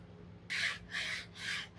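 Fingers rubbing over a boat hull coated with three layers of EZ Slide graphite paint give three separate raspy, scratchy strokes, close and fairly loud, with short pauses between them.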